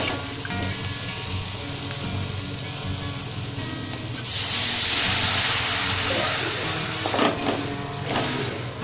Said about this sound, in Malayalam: 250 വെള്ളം ഒഴിച്ചു കൊടുക്കാം.